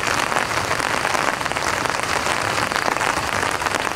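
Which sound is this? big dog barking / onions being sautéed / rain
rain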